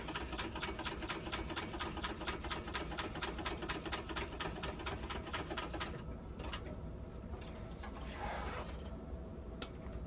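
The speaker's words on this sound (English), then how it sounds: "put it under my needle, and again, back stitch at the start and the end of the stitch line" A sewing machine back-stitching a bucket bag seam runs in a fast, even mechanical rattle for about six seconds, then stops, leaving quiet handling noises.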